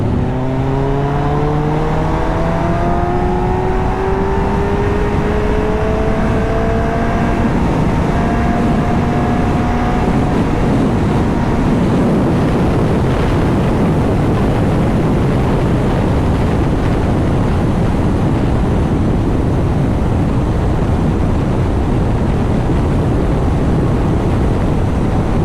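A Kawasaki Concours motorcycle heard while riding, its engine note rising through the gears at first before strong wind rush takes over, a loud, steady roar with no talking.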